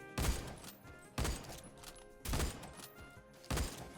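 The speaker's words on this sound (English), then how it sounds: "I'll shoot it a couple times, and then I'll compare it to a different gun that's actually 60 fire rate. I'll just go with the SVDS" SVDS rifle firing in Phantom Forces, four loud, evenly spaced single shots about a second apart, each a sharp boom with a short tail, no talking.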